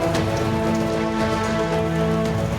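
Steady, dense rain from a cyclone hisses evenly throughout, a constant wash of falling water with no voices, in Karnataka, India.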